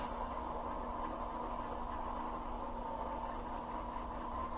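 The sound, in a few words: Athearn AC4400 model locomotive sound starting up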